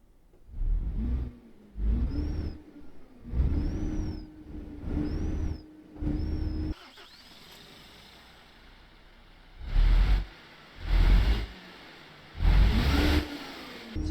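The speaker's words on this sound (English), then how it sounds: "let's turn the engine on and hear the engine" A heavy truck engine in Euro Truck Simulator 2, an old classic MAN, revs repeatedly in rhythmic bursts, rising and falling, then idles with a low rumble before several more rev pulses.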